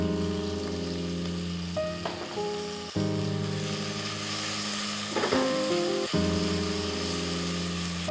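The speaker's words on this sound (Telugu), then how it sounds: "ఇటుపక్క ఉల్లిపాయలు వేగుతూ ఉన్నాయి." Onions frying in oil in a pot while chicken biryani is cooked, a steady sizzle with a few short clanks as the pot is stirred.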